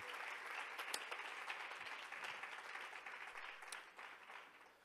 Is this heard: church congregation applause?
yes